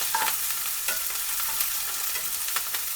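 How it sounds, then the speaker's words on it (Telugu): Onions, mint and curry leaves sizzle steadily in a frying pan while a spoon stirs them, with a few brief scraping strokes over a constant close frying hiss. "నెక్స్ట్ కరివేపాకు వేసుకొని బాగా కలుపుకోవాలి."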